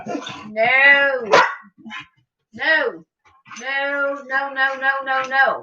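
A dog gives several whining, vocal barks and yowls close by, in short bursts separated by brief pauses.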